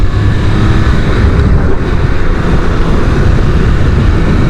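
A Triumph Speed Triple 1200 RR motorcycle pulls hard on a road ride near Melbourne, its engine note steady and loud under heavy wind roar throughout, with no talking.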